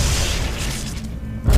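A video game explosion in X-COM, a heavy low boom that rumbles through most of the moment and then fades, followed by another deep thud at the end.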